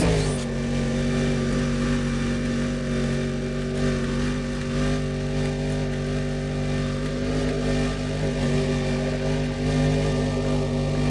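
A car accelerating in the racing game Need for Speed: Undercover, its engine droning steadily and loudly throughout with a sustained, rising rev and no talk over it.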